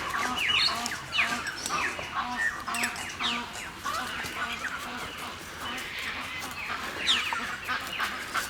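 Australian white ibis calling at a smelly bird sanctuary, a steady chorus of harsh squawks and honks from many birds, some close and loud, others farther off.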